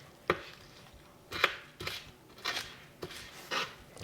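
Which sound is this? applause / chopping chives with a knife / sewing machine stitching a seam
chopping chives with a knife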